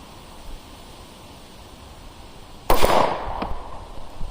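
A single sharp gunshot at an outdoor shooting range cracks loudly over a steady background hiss, followed by a brief echoing tail and a fainter secondary report.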